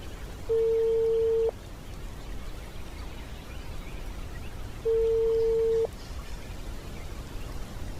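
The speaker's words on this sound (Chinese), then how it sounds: "电话无人接听" An unanswered telephone call heard over the line: two long, steady ringback tones about four seconds apart, each lasting roughly a second, over a faint continuous hiss.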